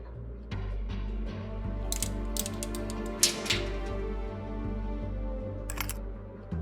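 In the game Whispers of a Machine, screws are worked loose with a coin: a string of small metallic clicks, scrapes and ratcheting ticks over a low steady background drone, ending with a final clink.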